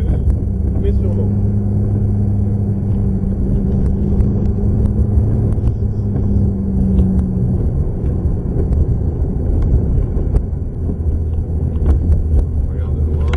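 A Ferrari F430 on a racetrack gives a sustained, loud engine drone from inside the car, with the tone shifting as it accelerates. A driving instructor talks over it throughout.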